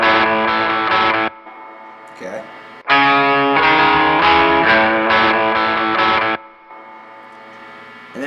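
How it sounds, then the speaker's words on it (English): Distorted electric guitar harmony line played over a looped first part from a looper pedal, loud sustained chordal notes in bursts with short gaps, a brief spoken word heard in one pause. "So I have the first part looped in my looper pedal here"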